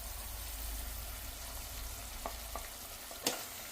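Spice paste frying in a pan for meal maker keema, a steady close sizzle with a few brief stirring scrapes and one sharper clatter near the end, no voices.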